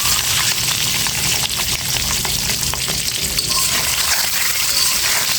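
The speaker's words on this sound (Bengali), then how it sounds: "হলুদ আর লবণ দিয়ে ডিমটা ভাজি করে নিলে খুব সুন্দর হয় বন্ধুরা" Cut-up egg fries with turmeric and salt in a pan, giving a loud, continuous sizzle with bubbling and stirring throughout and no talking.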